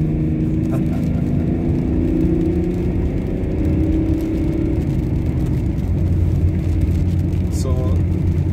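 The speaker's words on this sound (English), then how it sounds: "I'm just going to give this thing some boot so you can hear the engine." Inside a car driven hard through the gears to top gear, a steady engine drone and road roar fill the cabin, the pitch climbing gradually under acceleration with no one talking.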